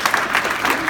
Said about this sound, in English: So again, clap it up for her.